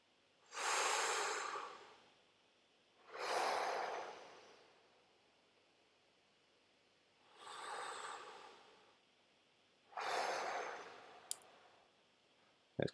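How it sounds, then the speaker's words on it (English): Slow ujjayi meditation breaths, four long airy inhales and exhales spaced a few seconds apart, close and breathy with a soft hiss, the last ending in a small click. "It's called Ujjayi breath."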